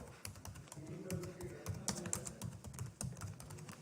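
Rapid, uneven keystrokes on a computer keyboard while a full name is entered into a shop onboarding form, crisp and close with no talk over them.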